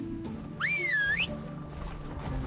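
A single rising-and-falling whistle from an in-game character calling tamed creatures in the survival game Ark, loud and clear for about half a second over a low game background hum.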